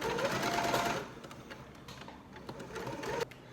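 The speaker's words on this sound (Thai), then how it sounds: "ค่อยๆเย็บนะคะ ถ้าคนยังไม่ชำนาญกลัวหลุดโค้งนะคะ ก็ค่อยๆเย็บไป" A sewing machine stitches fabric around the curved edge of a bucket hat sized 58-59 cm, with a loud, steady mechanical whir for about a second, then quieter, slower bursts of stitching.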